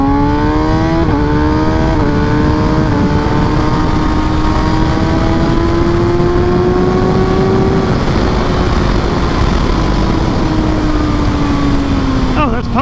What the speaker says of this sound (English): And this could have been one of my dislikes also, but the quick shifter.